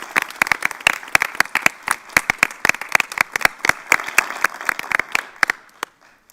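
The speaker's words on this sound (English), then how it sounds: "Let's give these 78 partnerships a round of applause." Scattered clapping from a modest audience at a school board meeting, uneven and fairly close, tapering off into silence at the end.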